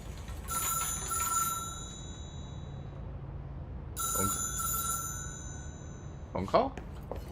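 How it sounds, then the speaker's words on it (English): An old-style telephone bell rings in the video game Control, two loud metallic ringing bursts separated by a pause, followed by a brief clatter near the end. "Got a phone call, what the heck?"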